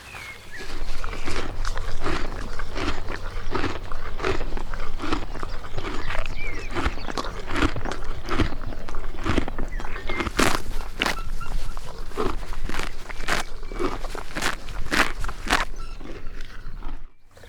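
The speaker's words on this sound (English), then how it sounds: "this is quite a cool opportunity to record some horse sounds" Repeated horse hooves clip-clopping in a steady rhythm close by, with snorts and breathy animal noises mixed in.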